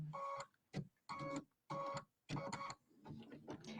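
Embroidery machine sewing a triple stitch on a bunny-themed square in the hoop, giving four loud, bursty runs of rapid mechanical stitching with short pauses between, followed by a softer, uneven stretch.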